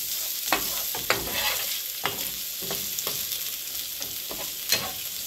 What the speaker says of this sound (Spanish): Freímos el dientito de ajo aquí. Y ponemos también la cebolla.